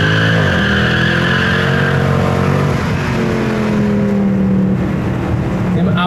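Car with a hot exhaust revving loudly and continuously, engine pitch rising and falling close by.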